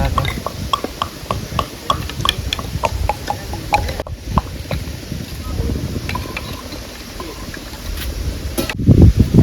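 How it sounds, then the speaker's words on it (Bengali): Strong wind gusting outdoors on a riverbank beside a cooking fire, a steady rough buffeting with broadband rumble throughout and a louder gust near the end. "প্রচণ্ড হাওয়া দিচ্ছে, মনে হয় প্রবলেম করবে।"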